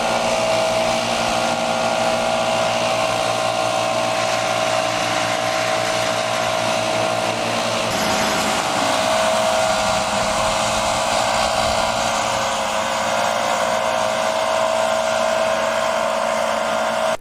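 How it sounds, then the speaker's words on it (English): Backpack leaf blowers clearing pecans and leaves away from the trunks of orchard trees during a pecan harvest, a steady loud engine drone and rushing air that carries on without a break, with a brief shift in tone partway through. "The next crew comes in with backpack blowers and blows the nuts and leaves out from around the trunks of the"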